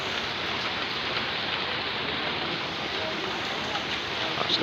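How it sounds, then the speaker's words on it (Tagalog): Steady heavy rain pouring down in a constant dense hiss, close and enveloping, with no voices. "Lakas ng ulan eh."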